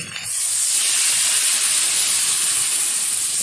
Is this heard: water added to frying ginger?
yes